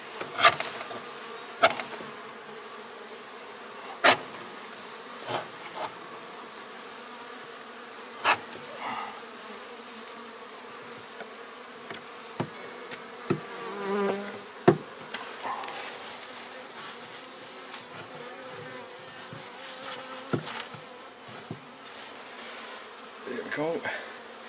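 Honeybees hum around an opened horizontal hive, a soft steady buzz close by that swells and fades as individual bees pass, with scattered sharp clicks and knocks from handling the hive.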